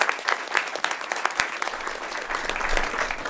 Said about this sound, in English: I think that is remarkable and deserves another round of applause